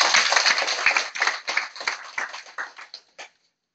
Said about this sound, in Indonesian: tepuk tangan dulu kita sama Ibu